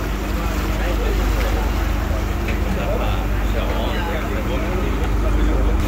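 Steady engine drone and water wash aboard a public water bus in Venice, Italy, heading toward Piazza San Marco, continuous and fairly loud, with voices nearby.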